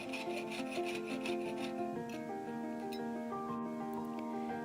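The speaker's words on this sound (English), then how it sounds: "Then I get the saw out and start cutting the silver to the right shape and size." Jeweler's saw cutting silver sheet for a ring, a close rhythmic rasping of strokes over the first two seconds, followed by quieter scraping against a soft background of music.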